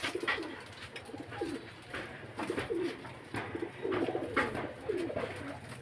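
Pigeons coo repeatedly in soft, rolling phrases, several birds close by and overlapping in a steady rhythm over a low background hum.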